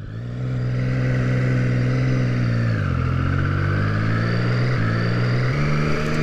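A 2015 Triumph Street Triple 675R ridden slowly, its engine holding a steady, close hum with a few brief dips and shifts in pitch as it rolls along; no talking.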